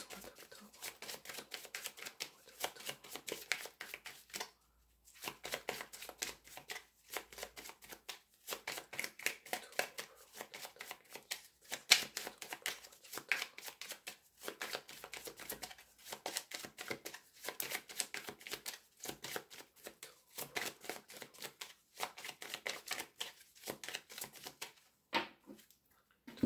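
Small Lenormand fortune-telling cards are shuffled in rapid, repeated riffling bursts with brief pauses, close and soft, continuing steadily through a card reading.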